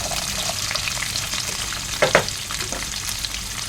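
Mixed vegetables, including carrot, sweet pumpkin and squash, sizzle steadily in a pan with a couple of louder stirring scrapes partway through, close and continuous with no talking.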